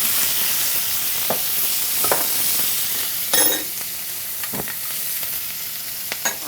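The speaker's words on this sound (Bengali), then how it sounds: "আমরা পেঁয়াজ কুচি এবং কাঁচামরিচ দিয়েছি, এটা একটুখানি ভেজে নেব।" Chopped onion and green chilli fry in a pan with cumin seeds, sending up a constant hiss broken by a few sharp spatula taps and scrapes.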